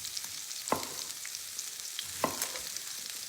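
Chopped onion frying in a hot pan for a home chicken curry, a steady soft sizzle heard from a little distance, with two sharper clinks of a utensil stirring against the pan.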